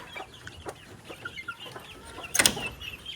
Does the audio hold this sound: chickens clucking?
yes